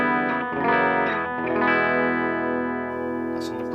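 An Epiphone Les Paul Custom Pro electric guitar on a clean tone through the bridge pickup rings out with sustained chords and notes, bright and full, with a touch of shimmer and echo.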